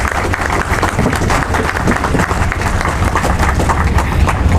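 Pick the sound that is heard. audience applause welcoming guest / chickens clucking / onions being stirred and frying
audience applause welcoming guest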